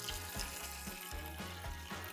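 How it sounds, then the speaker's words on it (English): Apple cider is poured slowly off its sediment in a steady, soft liquid trickle with a faint gurgling pulse, quiet and continuous, no voices. "pour nice and slow so we can leave the sediment behind"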